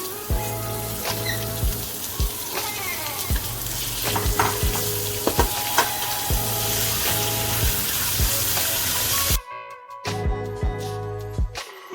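Minced mutton, washed and squeezed, fries in a pan with light golden onions: a steady close sizzle with stirring scrapes and clatter, then a brief pause near the end before the frying resumes.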